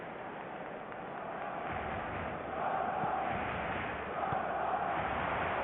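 A stadium crowd in the eFootball video game, a continuous distant roar and murmur that swells slightly partway through and stays steady, with no clear voices on top.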